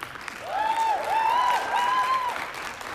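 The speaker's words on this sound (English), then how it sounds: "give another round of applause for Maddie and also Will, Honor, and Maddie." Audience applause at the J.A.M. Fest show: steady, fairly close clapping that swells after half a second and holds, topped by a few long rising-and-falling whistles or whoops from the crowd.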